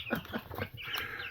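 Meat chickens bred for fast weight gain feeding on fresh food in a garden pen, with a cluster of soft clucks and pecking sounds close by, steady and busy with no voices.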